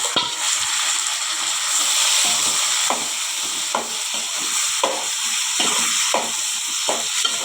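Onion and tomato sizzle steadily in a hot pan for a Tamil-style pachadi, with a spoon scraping and stirring in repeated strokes over the constant frying hiss, close and fairly loud, with no talking.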